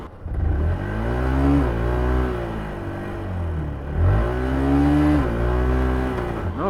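A Yamaha R125 motorcycle engine revving hard in two long rising and falling pulls, loud and close, with no one speaking over it.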